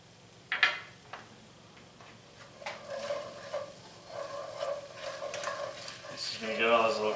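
About three or four cloves' worth of chopped garlic softening in a pan, a faint steady sizzle with a few spoon scrapes and clinks near the start, frying quietly on its own.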